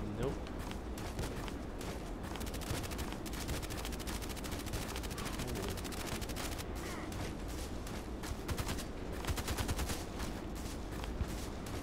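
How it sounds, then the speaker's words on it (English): RPK machine gun in Contract Wars firing in dense, continuous rattling bursts throughout, fairly constant in level, with footsteps and a voice talking underneath. "Now I'm with a machine gun."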